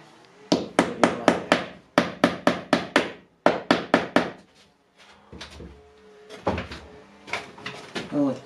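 Nails driven into wooden lining boards on the walls and ceiling of a house sound as close, sharp hammer blows in quick bursts of four to six, with pauses between sets and a few softer knocks near the end.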